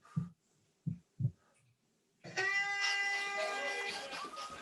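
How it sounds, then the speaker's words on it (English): Three slow, dull heartbeats thump close and isolated as a triathlon swimmer waits in the water for the start horn, followed by a long sustained horn-like drone. "you can hear my heart beating as I'm there"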